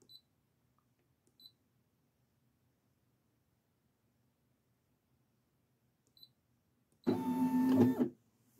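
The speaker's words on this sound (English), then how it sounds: "I'm gonna just move around the needle, make sure that it's clearing all the way around right here on this square." A single-needle embroidery machine traces the outline of a 5 by 12 inch repositionable hoop, heard as one short motorized whir lasting about a second near the end, after near silence broken only by faint tiny beeps.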